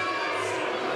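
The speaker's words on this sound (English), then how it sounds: "can be heard throughout the crowd" A crowd at a 3x3 basketball game in Vienna boos, heard as a steady, sustained mass of voices throughout.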